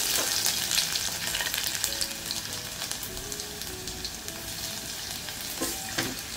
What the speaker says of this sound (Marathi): तेल गरम झालं आहे, यामध्ये अर्धा चमचा राई घालते, अर्धा चमचा जिरं, 7-8 पाकळ्या लसूण ठेचून घेतला तो घालते